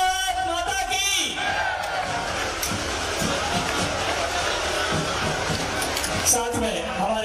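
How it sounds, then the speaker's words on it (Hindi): A large crowd at an outdoor election rally and road show in Sohagpur, Madhya Pradesh, roaring and chanting together in a loud, continuous swell of massed voices, with shouts rising above the din. "जोरदार तालियों से भारत माता की जय के साथ बोलिए भारत माता की, भारत माता की, भारत माता की"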